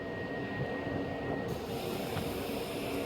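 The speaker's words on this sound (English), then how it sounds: "And appearing again is another train." A train passes through Tarragona station, a low steady rumble and rolling rail noise heard from the platform at moderate distance, with a brief high whine fading midway.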